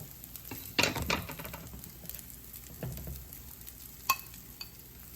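Pakoras shallow frying in a pan are pushed around, giving soft scraping and clattering knocks over a quiet steady sizzle, close up and without talk.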